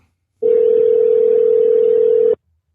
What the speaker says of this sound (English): Let's get on the phone